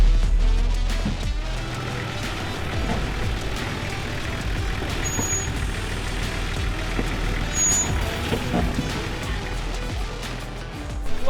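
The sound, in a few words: off-road vehicle braking hard downhill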